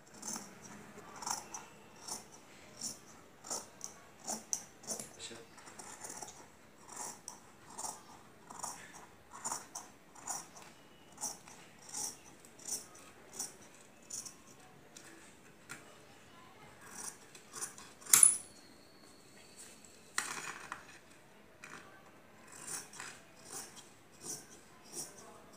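Scissors snip through kameez fabric along a chalked diagonal line, a steady series of crisp, close cuts repeating about once a second, with a few louder rustles of cloth being handled partway through.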